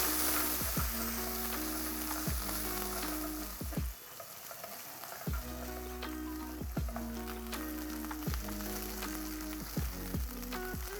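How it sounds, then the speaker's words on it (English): Ginger garlic paste and chopped onion fry in a pan for chicken curry, a steady close sizzle broken by regular scraping stirs of a spoon. "I'll add in ginger garlic paste and chopped onion."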